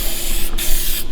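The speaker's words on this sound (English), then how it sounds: "Spray it down real good." Sharkhide metal protectant sprayed onto the metal brackets and transducer mount of a new pontoon boat, a close, loud continuous hissing spray broken by two brief pauses.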